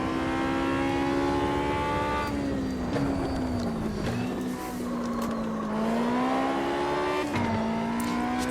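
A race car on a lap in the Automobilista 2 racing game, beta 0.8.2.0: a loud, steady engine drone throughout, with pitch sagging and climbing again through gear changes and corners.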